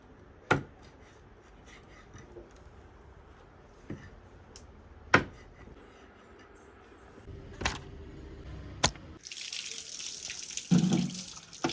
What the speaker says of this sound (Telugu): కొన్ని నీళ్ళు పోసుకోవాలి